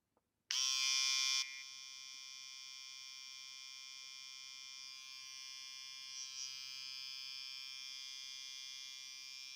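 A small electric ear and nose hair trimmer switches on with a brief louder whine, then settles into a steady, high-pitched buzzing hum that continues throughout.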